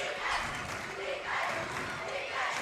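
Fans stand and cheer on the Shekinah Christian Flames during a boys district semifinal basketball game, a loud continuous crowd roar rising and falling in waves, with a commentator talking over it.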